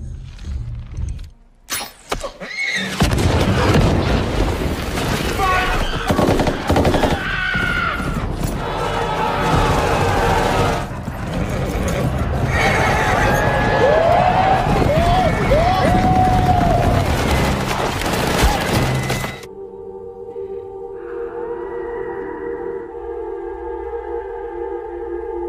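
Gunfire and battle noise fill a war scene from a Planet of the Apes film as apes attack a fortress, dense bursts of shots, crashes and booms for about twenty seconds before cutting to quieter sound.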